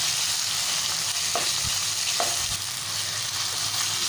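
Chicken frying in a pan with ginger-garlic paste hisses steadily up close, broken by a few short scrapes and knocks as it is stirred. No one speaks.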